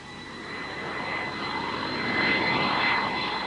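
A small passenger and mail jet adapted to land on gravel airstrips in the High Arctic of Baffin Island gives a steady broadband engine roar with a whining tone, swelling slightly louder toward the end, with no voices.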